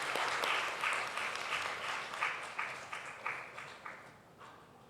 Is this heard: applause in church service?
yes